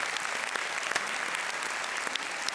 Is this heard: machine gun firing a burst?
no